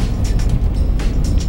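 A four-axle KAMAZ 5044 truck drives on a wet, sleety road, its low steady engine and road rumble continuous with faint hissing surges as the gearbox shifts smoothly.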